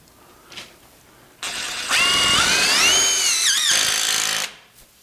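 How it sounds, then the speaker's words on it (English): A power drill or driver runs in several loud, sustained bursts with rising and falling pitch as screws are driven into wall board while waterproofing a wall for an aquarium install, starting with short taps before the long run. "Let me get a few screws in here."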